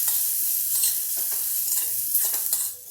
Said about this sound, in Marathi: आता हे वाटण असं छानपैकी मिक्स करून घेऊया